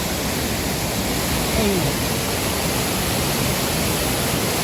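Hua Chang waterfall in a forest at Wiang Nuea gives off a loud, unbroken roar of rushing water, close and steady throughout.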